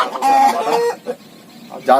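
Native-breed hens clucking at a poultry farm, a few loud, close calls separated by short pauses.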